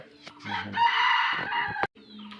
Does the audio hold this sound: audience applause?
no